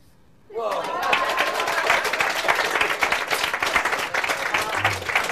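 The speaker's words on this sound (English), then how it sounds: "Give Anita a big round of applause." A crowd at a mentalism show breaks into loud, sustained applause after a moment of quiet, clapping steadily with some cheering and chatter mixed in.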